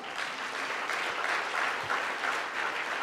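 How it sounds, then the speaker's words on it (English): An audience at a LeadTalks Chennai talk applauds, sustained moderately loud clapping from a crowd that holds even throughout. "Can we give a round of applause to God?"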